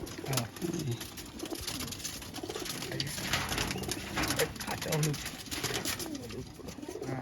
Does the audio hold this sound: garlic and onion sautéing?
no